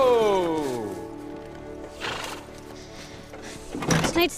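A horse lets out a loud, close neigh that falls in pitch and fades, followed by quieter shuffling and a few dull knocks.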